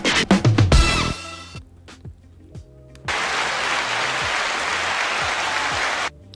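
Applause sound effect triggered from a podcast sound pad, a steady wash of clapping that starts abruptly after a few seconds of quieter clicks and button noises, holds loud and even, then cuts off.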